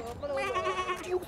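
A sheep gives a single wavering bleat, close and clear, in an animated fairytale scene.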